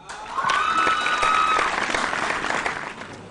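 An audience at a school quiz competition applauds a quiz team, a dense burst of clapping that swells quickly and holds for a few seconds, with a faint whistle rising through it.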